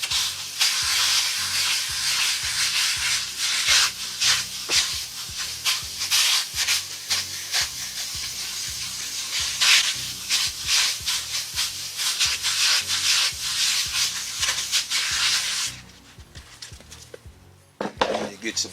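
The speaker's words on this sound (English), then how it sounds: "Then you just rub it on in a circular motion." A hand pad rubbed in circular motion over the bodywork of a Chevy Caprice box body, a close, steady, rhythmic swishing scrape that stops near the end, with a person talking.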